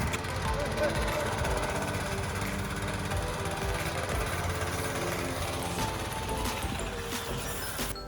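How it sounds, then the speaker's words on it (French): Petrol-engine Karcher pressure washer running, a dense, loud, steady mechanical rattle and hum lasting the whole stretch, close and continuous, with a voice talking over it. "il va démarrer la machine. C'est un moteur à essence et tout,"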